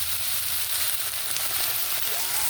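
Broth hits a hot pan of patola and sotanghon, producing a loud, steady hiss and sizzle that stays even throughout with faint crackles and no talk.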